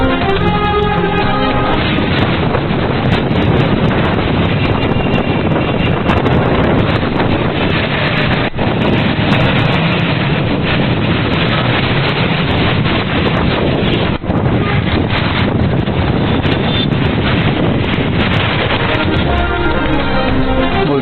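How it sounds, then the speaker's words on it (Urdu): Strong wind blows hard across the microphone in a continuous, loud, broadband roar with gusty surges and no pauses, and no voices are heard. "ڈیرہ غازی خان بہاولپور میں تیز ہواؤں کا راج"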